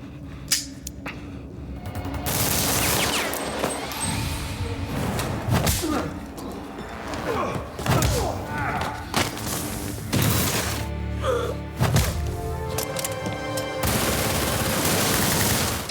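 Gunfire in a wild movie shootout with guards, rapid bursts of shots, thuds and impacts layered with music and effects, dense and loud throughout with brief pauses.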